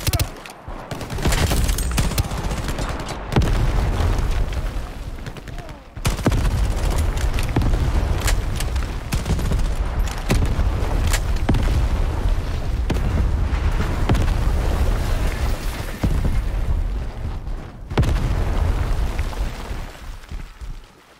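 Swarm grenade detonations in the shooter game Shatterline, a dense run of loud overlapping bursts and gunfire-like cracks that keeps going with short gaps, plus occasional voice underneath.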